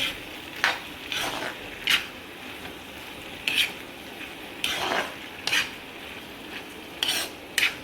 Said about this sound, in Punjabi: ਹੁਣ ਆਪਾਂ ਇਹਨੂੰ ਹਿਲਾ ਦਿੰਦੇ ਆ ਧਨੀਆ ਪਾ ਕੇ